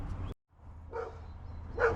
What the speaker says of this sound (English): you get to enjoy the barking dog in the background